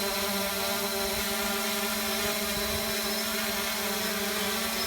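A 3DR Solo quadcopter drone hovers on GPS with its motors running, giving a steady, dense whine and buzz with layered tonal hum, continuous and fairly close throughout.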